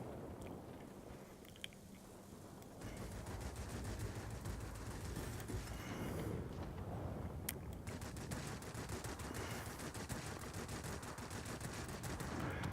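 Aircraft guns rattle in a fighter duel in the World of Warplanes game, firing in rapid sustained bursts over a dense, constant engine roar.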